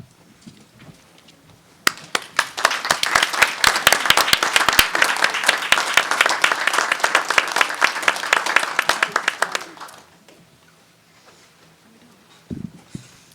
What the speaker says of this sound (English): I'd like to stand up and give an applause for these gentlemen